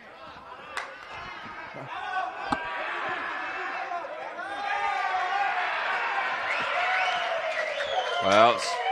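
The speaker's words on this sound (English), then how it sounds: "just thought we'd go quiet there so you could hear that crowd" Spectators at a lawn bowls pennant match murmur and chatter as a broad crowd, with scattered claps and thuds, swelling louder toward the end.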